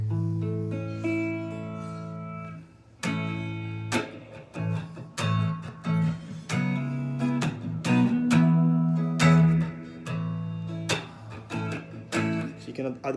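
Guitar notes picked one after another through the chords of a song, including a barred A, each string ringing out in a steady arpeggiated pattern, close and clear.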